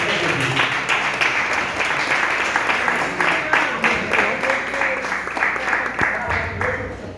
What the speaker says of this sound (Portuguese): Vamos receber a serva do Senhor com uma forte salva de palmas.